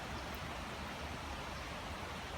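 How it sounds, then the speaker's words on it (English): Rain falls on a vegetable garden in a dense, even hiss of drops, steady and close throughout with no talking. "I love the rain."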